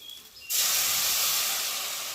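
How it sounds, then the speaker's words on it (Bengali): Water hits hot oil in a cooking pan for a Bengali coconut egg curry, a sudden loud hissing sizzle that bursts in and holds steady, fading slightly, close up with no speech. "তো চলো এখন পরিমাণ মতো জল দেবো।"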